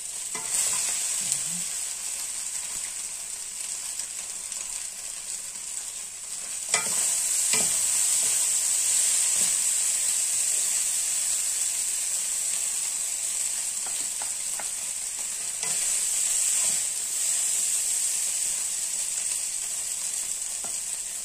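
Food stir-fries in a pan, kept dry without added water, giving a steady bright sizzle broken by occasional sharp scrapes and clicks of the utensil.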